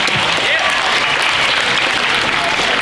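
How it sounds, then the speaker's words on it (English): An audience at a school chemistry expo event gives a round of applause, dense steady clapping filling the whole stretch at close range. "let's give Mr. James and Mr. Dave a sympathy round of applause"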